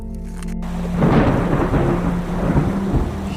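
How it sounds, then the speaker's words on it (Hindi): Heavy downpour with thunder in a rural farming setting: a deep rolling thunder rumble builds after a brief quieter moment, then dense, loud roaring rain carries on throughout with no voices. "ये मूसलाधार बारिश है।"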